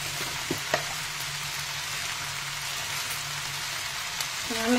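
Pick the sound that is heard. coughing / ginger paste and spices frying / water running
ginger paste and spices frying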